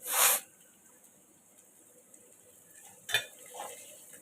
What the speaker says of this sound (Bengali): দেখো এটাও ফ্রাই হয়ে আসছে লাল লাল